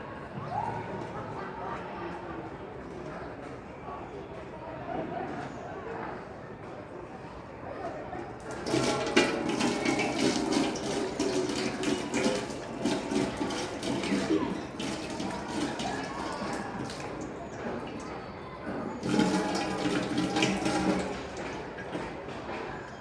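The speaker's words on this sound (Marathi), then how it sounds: "दोन्ही डोळ्यावरती थंड पाण्याचे सबकारे मारले" Close-up splashing of cold water onto the eyes in repeated bursts, loud and broadband, with quieter trickling and handling noises between.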